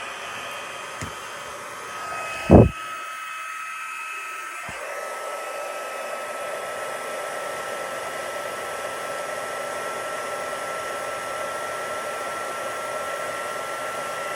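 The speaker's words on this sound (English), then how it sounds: "I don't even have my heat tool plugged in, so give me just a second to do that" An embossing heat tool blows a steady, loud stream of hot air as it heats up. The roar runs continuously after a brief knock and click near the start, with no talking.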